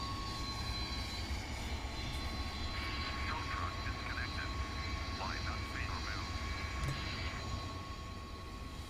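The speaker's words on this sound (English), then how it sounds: "the last one is engine 1. You can see it firing up now." A McDonnell Douglas DC-10 jet engine spools up in the Prepar3D flight simulator, a steady broadband roar with rising whine that stays loud and constant throughout, with no one speaking over it.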